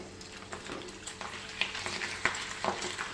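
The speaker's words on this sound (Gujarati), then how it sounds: "હવે આપણે તેલ ગરમ કરવા રાખી દીધું છે તેમાં આપણે ભૂંગળા મૂકી દઈશું" Long yellow bhungala fryums fry in a pan of hot oil, giving a steady close-up sizzle broken by sharp crackles and pops.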